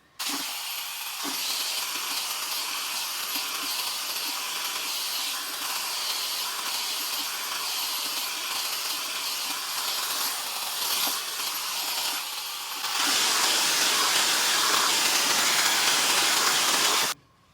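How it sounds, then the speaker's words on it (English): A Tymo hair dryer runs steadily with a loud airy whoosh, shifting to a brighter, more intense blast near the end before cutting off. "I've literally been using this Tymo blow dryer ever since."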